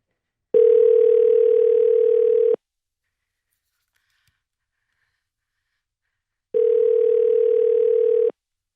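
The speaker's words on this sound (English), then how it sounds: "Okay, I made the phone call." Telephone ringback tone while placing a call: two long, steady, loud electronic tones of about two seconds each, separated by a silent gap of roughly four seconds, with nothing else heard.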